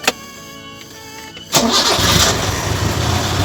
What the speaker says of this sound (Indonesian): kita sekarang panaskan dulu ya mesinnya. Oke, kita nyalakan.